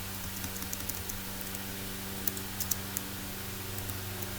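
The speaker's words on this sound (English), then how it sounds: "So let's go ahead and type that up." Light typing on a computer keyboard, soft irregular key clicks with a few sharper taps, close but quiet over a steady background hum, with no talking.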